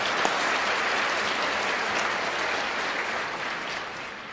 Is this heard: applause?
yes